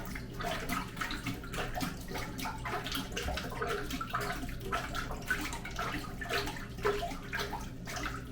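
Water being scooped and splashed out of a toilet bowl during toilet removal, with steady continuous sloshing and swishing at close range, no speech.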